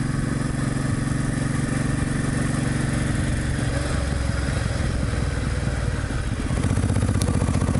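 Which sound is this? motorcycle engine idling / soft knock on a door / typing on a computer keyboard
motorcycle engine idling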